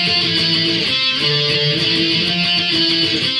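A distorted electric guitar plays a driving punk rock riff, loud and steady with quick repeated strums and shifting chords.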